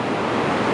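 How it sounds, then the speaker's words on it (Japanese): The Chikugo River's water swirls and churns, a steady, loud broadband rush with no breaks, heard up close and mixed with wind noise. "水がね、相当こう渦巻いてるわけですね"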